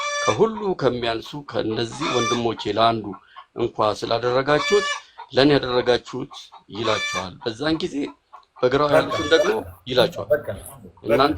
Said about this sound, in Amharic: ዶሮ ሚዩት አድርጋት